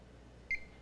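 A single short, high-pitched, clean electronic startup beep from a Dell Alienware X51 R2 computer sounds once amid a quiet low hum.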